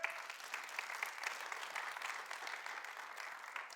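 Church congregation clapping in a continuous, crowded round of applause, many hands at once with small surges in intensity, close and lively for the whole stretch.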